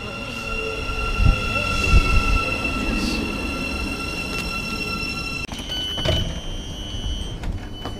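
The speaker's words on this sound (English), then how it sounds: "comes the train, Finn" A train rumbles past on its way to London, steady rolling and wheel noise with high squealing tones, a brief clatter partway through, and people talking faintly over it.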